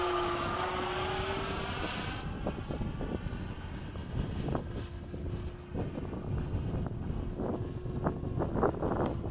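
A Freewing F-15 model jet's electric ducted-fan engines whine steadily in the open, with wind buffeting the microphone and a tone that shifts early on, while crackly bursts of rushing air come and go.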